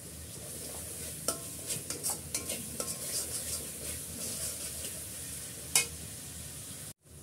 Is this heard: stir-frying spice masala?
yes